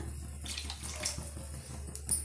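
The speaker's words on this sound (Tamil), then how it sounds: "கரெக்டாக நான் 3 கப் அளவுக்கு நான் தண்ணி சேர்த்துக்கிறேன்." Water poured into a cooking pot for tomato rava khichdi: a steady, close splashing gush running through the whole stretch with slight surges, no talk.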